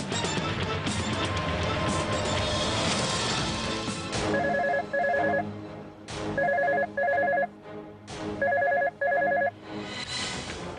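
A telephone rings in three paired bursts, each double trill loud and close, after several seconds of dense music.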